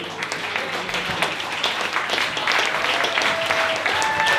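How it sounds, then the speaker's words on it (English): Audience applause at a brewery gig fills the room steadily and loudly throughout, dense clapping with a few whoops and a faint tonal sound over it. "if we could start the clapping at the back of the room, bring it all the way through"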